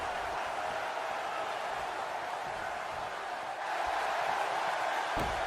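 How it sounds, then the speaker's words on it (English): A steady, dense roar of an arena crowd in the WWE 2K20 wrestling video game, cheering continuously with no break and no voices standing out. "The crowd is electrifying right now."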